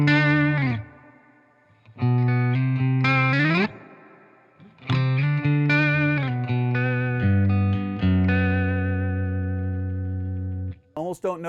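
An electric guitar through a Bad Cat Cub 40R tube amp's reverb plays sustained chords and notes with a washy, echoing reverb tail that rings out between phrases.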